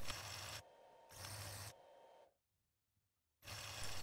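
A metal lathe runs in loud broadband bursts, cutting off and restarting in three stretches with a near-silent gap before the last, as a non-standard thread is cut.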